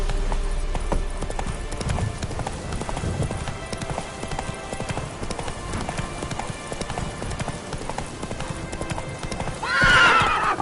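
Video-game horse Roach gallops with a rapid, even clip-clop of hooves throughout, then lets out a loud, close whinny near the end.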